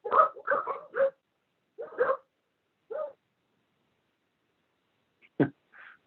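Dogs bark in a few quick clustered yaps, then single barks spaced apart with long silences, heard over a phone line during a committee meeting.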